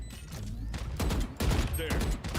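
Rapid missile volley fired in a Nintendo Switch shooter game, a dense, loud burst of whooshing blasts and explosions rolling continuously for a couple of seconds, with a brief voice heard faintly under the din.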